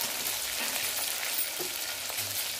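Chopped tomato and peeled raw potato strips roast with peanuts in a pan, making a continuous close frying sizzle with faint stirring scrapes and no voices.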